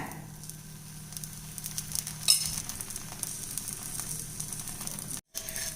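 A sponge dosa sizzles in oil on a pan, a steady soft crackling hiss that holds throughout, close and fairly quiet, with a brief clink partway and a momentary dropout near the end.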